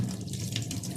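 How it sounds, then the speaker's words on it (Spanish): Hot water pouring from a tap or kettle to soak corn husks for tamales: a steady, full splashing rush that runs continuously and close by for the whole moment, with no talk over it. "Vamos a poner agua caliente"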